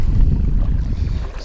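Strong gusty wind buffets the microphone on a fly fishing outing, a low, rumbling roar that stays loud and steady throughout the short moment with nothing else heard.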